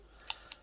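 Two quick, faint metallic clicks from a pair of Husky scissors being handled, a fraction of a second apart, over a quiet background.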